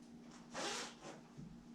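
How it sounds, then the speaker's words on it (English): A zipper on a fabric fidget pad being zipped, one short soft rasping pull near the middle with faint handling noise around it, quiet and close. "This zipper"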